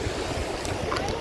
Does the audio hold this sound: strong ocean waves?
yes